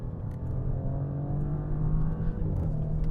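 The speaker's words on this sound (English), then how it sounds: "Nice little exhaust blip on the upshifts." A 2024 Audi S7 engine hums steadily under load with a low exhaust drone, with brief sharp pops near the end as the gears change.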